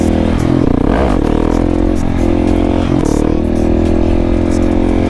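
Motorcycle engine held in first gear during a wheelie, a loud, steady, close droning roar with slight pitch swells throughout.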